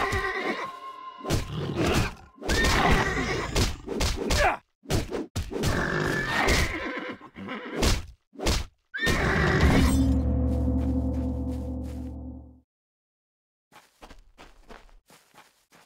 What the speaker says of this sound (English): You saved my horse!